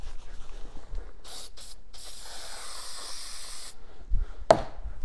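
An aerosol can sprays in a few short hisses, then one long steady burst, up close, followed by a soft clatter.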